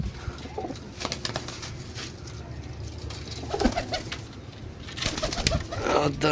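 Pigeons coo softly and repeatedly at close range, mingled with rustling, brief flutters and background noise.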